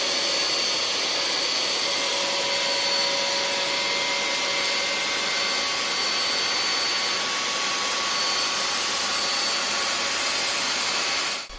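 A router rounds over the edges of wooden cot parts, giving a steady, loud high-pitched whine with a constant motor tone throughout, then stopping abruptly at the end.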